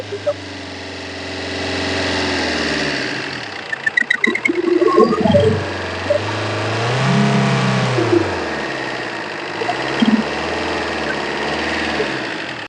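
A used car's engine idles, then is revved in several quick, close bursts that rise and fall, before settling back to a steady idle; a voice briefly speaks over it.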